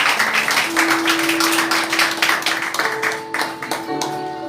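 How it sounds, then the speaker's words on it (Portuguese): A church congregation clapping in praise during a service, a dense run of hand claps at moderate level, with a sung or sustained voice tone rising through it. "As palmas exalta a Ele"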